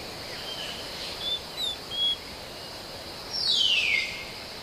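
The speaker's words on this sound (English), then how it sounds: "the jungle pulses with the sounds of insects and birds" Jungle ambience with a steady high insect drone, a few short bird chirps, and a louder descending bird call near the end.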